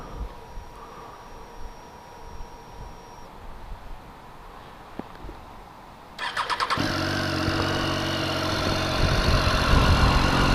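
A 2014 Triumph Street Triple ABS motorcycle cranks and fires up after a quiet stretch, then settles into a loud, steady, throaty idle close by.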